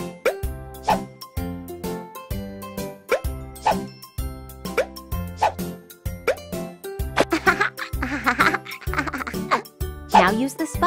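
A cartoon baby drops into a bath tub in a kids' nursery care game, giving repeated soft plopping splashes over a looping background music track. No one speaks.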